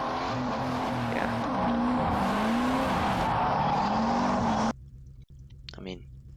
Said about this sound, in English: I press 3, and it has a, car drifting noise.